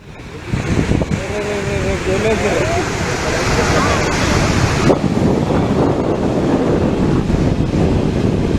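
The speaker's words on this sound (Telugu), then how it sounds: "ఎగువన కురుస్తున్న వర్షాలకు కొమ్రంభీం ఆసిఫాబాద్ జిల్లాలో వాగులు వంకలు పొంగి ప్రవహిస్తున్నాయి." A rain-swollen stream in flood at Andavelli in Asifabad district roars continuously and loudly, with churning water and wind buffeting the microphone and a brief faint voice early on.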